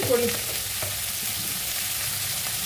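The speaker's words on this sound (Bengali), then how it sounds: "এবার মাছগুলোকে নেড়ে চেড়ে ভাজবো" Prawns with a little oil and radhuni spice stir-fried in a pan, giving a steady broadband sizzle with a brief scrape of stirring near the start, close and moderately loud throughout.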